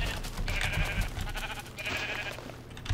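A sheep in the Minecraft mod TerraFirmaCraft gives two wavering bleats, separated by a short pause, loud and clear over a steady background of game noise.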